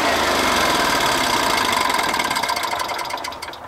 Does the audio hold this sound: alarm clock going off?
no